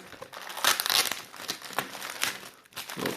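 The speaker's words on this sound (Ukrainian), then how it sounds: "Відкриємо Аккуратно конверт Укрпошти" A paper Ukrposhta postal envelope is torn and opened by hand, giving a close run of crinkling and ripping bursts with brief pauses, no voices.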